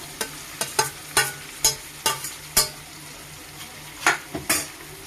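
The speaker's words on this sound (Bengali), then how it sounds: "এখন কপিটা দিয়ে দেবো" Cauliflower frying with potatoes in a wok, a steady sizzle punctuated by sharp spatula scrapes and clacks against the metal at an uneven rhythm, close, with no voices.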